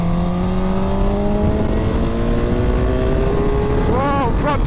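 A 2008 Suzuki GSX-R motorcycle engine revs high and steady while riding, its pitch climbing smoothly before a quick gear-change wobble near the end, loud and close with constant wind noise.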